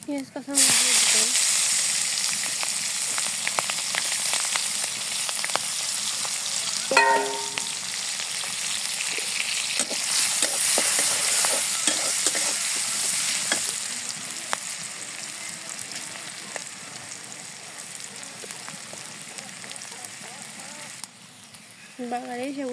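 Chopped onions and green chilies sizzle in hot oil in a pan just used for frying fish, a continuous hiss broken by occasional stirring scrapes, with a voice speaking now and then.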